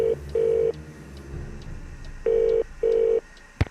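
A telephone in a Nancy Drew video game is dialed: four sustained beeping tones in two pairs separated by a pause, clear and close, ending in a short click.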